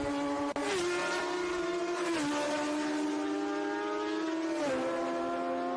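Racing motorcycles in the Southern 100 solo race on Isle of Man public roads howl past at high revs, engine notes rising and dropping through gear changes as several machines pass in succession, loud and fairly near.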